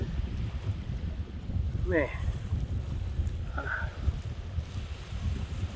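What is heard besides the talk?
strong wind blowing on a lake while fishing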